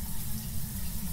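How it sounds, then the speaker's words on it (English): A shower runs inside a house in the game Phasmophobia, giving a steady, unbroken hiss of falling water with no voices. "I would have to go in there and turn off that shower."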